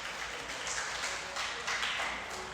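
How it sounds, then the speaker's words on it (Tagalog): A congregation applauds at a Easter worship service, a dense and steady wash of clapping that stays loud and even for a few seconds with no voices over it. "Siya nga pong malakas na palakpak para sa ating Panginoon."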